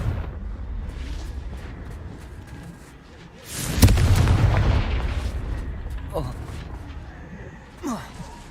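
A Confringo blasting spell goes off in Hogwarts Legacy gameplay: one loud, sudden burst near the middle that rolls into a rumbling, crackling tail, with softer game sounds before and after.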